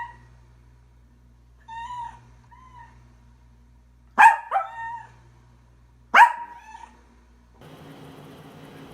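Pet cats meowing indoors while being filmed at Christmas decorating, a few short mews followed by two sharper, louder calls, with a faint hum and brief rustle at the end.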